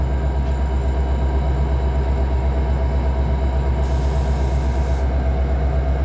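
A train runs past a railroad crossing near Antioch station with a heavy, continuous low rumble of wheels on track. A thin high squeal rises briefly partway through. Loud and close, with no voices.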